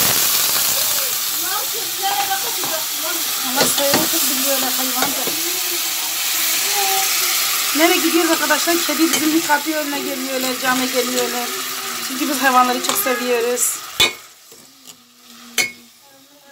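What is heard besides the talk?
meat frying in a pan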